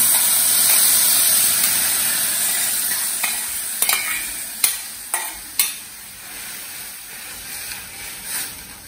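Moong dal sizzles steadily in a hot pan on a stove, a dense continuous frying hiss close by, broken by several scraping stirs of a spoon against the pan.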